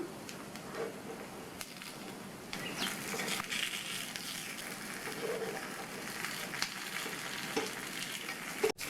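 Chickpea paniyaram frying in oil in a paniyaram pan, a soft continuous sizzle with light clicks and scrapes as the pieces are flipped, with no speech.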